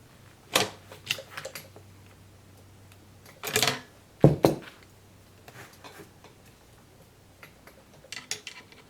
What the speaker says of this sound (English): I'll get the bolt out and show you better.